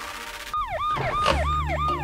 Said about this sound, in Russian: Вроде бы скорая едет.